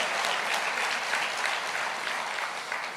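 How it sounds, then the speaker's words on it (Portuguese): Audience applause in a church, a dense continuous wash of many hands clapping at once, steady and fairly loud for the whole stretch, with no clear speech over it. "pode aplaudir a hora que você quiser"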